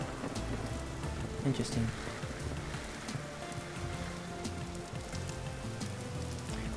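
Rain in the video game Vintage Story, a steady soft patter and hiss of drops falling beside a river, quiet and continuous, with a brief spoken word over it.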